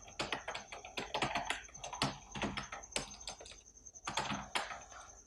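Fast, steady typing on a computer keyboard while writing text in a word processor, a close run of crisp key clicks in uneven bursts with brief pauses, no talking.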